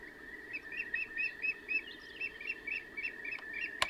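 Three-tone bird song alarm from a sunrise alarm clock speaker, a steady tone under repeated short chirping calls, moderately loud and fairly close, with no talk.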